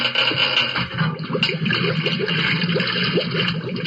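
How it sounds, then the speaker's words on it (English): Water runs from an opened water cock into a vessel, a continuous close splashing and gurgling trickle that holds steady throughout. "Then he blinked his eyes as more water flowed into the vessel."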